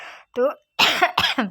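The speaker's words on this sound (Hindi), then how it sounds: "खांसी भी हो रही है" A woman coughs in short bursts, a few harsh throat-clearing hacks close to the mic, mixed in among her own speaking.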